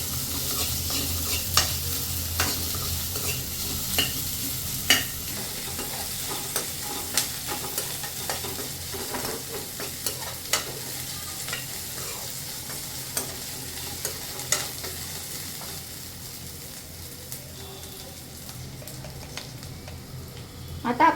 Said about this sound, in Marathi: सर्वात आधी आपल्याला कांदा फ्राय करून घ्यायचा आहे तेलामध्ये.